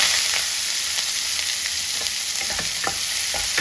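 Chopped onions, green chillies and curry leaves fry in hot oil, a loud constant sizzle with light crackles and a few stirring scrapes near the end.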